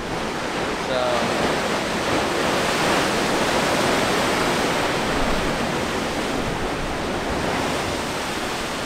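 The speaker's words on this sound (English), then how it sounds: "The waves are a little bigger today." Bigger ocean surf along a Hawaiian coast, a broad continuous roar of breaking waves, loud and steady, with a voice faintly audible beneath.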